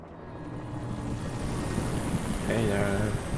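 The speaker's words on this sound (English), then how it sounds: "Helicopter?" Helicopter flying overhead in the game Alan Wake Remastered, a steady broad rotor drone that swells slightly louder, with voices speaking over it toward the end.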